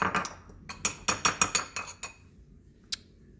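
A utensil stirs couscous seasoned with pepper in a dish, giving a quick run of sharp clinks and scrapes against the dish, then a pause and one final tap, close and clear.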